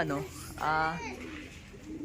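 Soft pigeon coos, a few low rounded calls, mixed with a speaking voice nearby.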